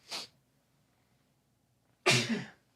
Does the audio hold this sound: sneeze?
yes